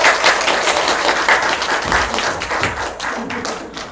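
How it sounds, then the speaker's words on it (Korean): Audience applause welcoming a guest speaker at a talk event in Suyeong, a steady dense patter of clapping hands throughout, moderately loud and close, with no talk over it. "박수로 모시겠습니다."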